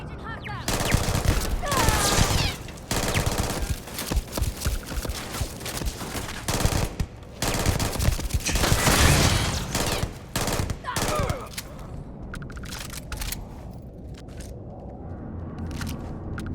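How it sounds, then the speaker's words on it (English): Rapid volleys of video game gunfire in Starfield, loud and continuous for most of the stretch with sharp repeated shots, then thinning to scattered pops and fading near the end. "Sounds like oh, sounds like they're shooting at something."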